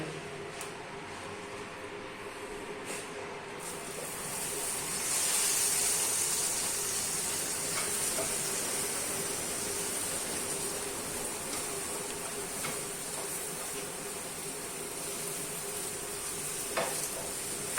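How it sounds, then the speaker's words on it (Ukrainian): A steady, close sizzle of eggplant frying in a hot pan, a continuous hiss that rises a little partway through, with occasional faint clicks. "тепер ми обсмажуємо баклажани"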